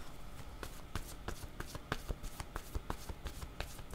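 Tarot cards are shuffled by hand close by in a quiet room, giving a fast run of soft riffling flicks and light slaps that keeps going without a break.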